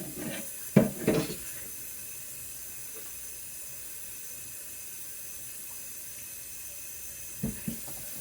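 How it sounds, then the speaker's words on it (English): Hot tap water runs steadily into a cooking pot of homemade spaghetti, a soft continuous hiss with a few louder clunks of the pot near the start and end, and no talking. "I'm just going to add me some hot water to it."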